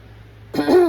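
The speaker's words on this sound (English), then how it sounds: "Me and Mom are still coughing our asses off." A single short throat-clearing cough, close and fairly loud, after a moment of near silence.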